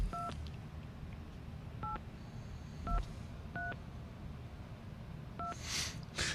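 Telephone keypad dialing tones from a phone pad on a device, heard as a series of short, separate beeps spaced irregularly, fairly clear over a quiet background hum with no talk.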